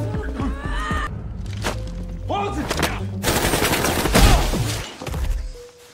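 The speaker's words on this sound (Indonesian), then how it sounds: "Dan saat keluar, baku tembak pun kembali terjadi." Gunfire in a film shootout: several sharp bursts and single shots in loud succession, with thuds and crashing impacts between, mixed with music-like tones and movement.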